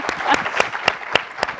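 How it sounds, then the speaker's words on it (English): Audience applause at a live conversation event on food, a crowd clapping in several distinct swells, fairly close and moderately loud, with no talk over it. "Yeah, you can clap"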